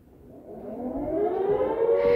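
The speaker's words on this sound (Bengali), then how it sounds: "এই যে নটার সাইরেন বাজা শুরু হলো।" A nine o'clock civil defense siren winds up, its wailing tone rising steadily in pitch and growing louder over about two seconds, heard alone from a distance.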